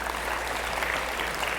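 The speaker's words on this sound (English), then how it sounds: "Can we give them a round of applause?" A dense wash of clapping from a crowd at a high school orientation, steady and unbroken throughout, with no single claps standing out.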